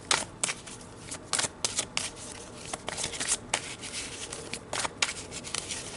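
Tarot cards being shuffled by hand, a close, crisp series of riffling and slapping bursts in an irregular rhythm, with no talking.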